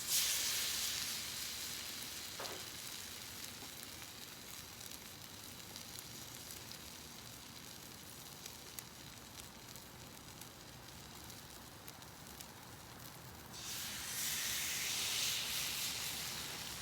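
French toast sizzles steadily on a Blackstone griddle, a continuous soft hiss that swells louder near the end, with no talking over it.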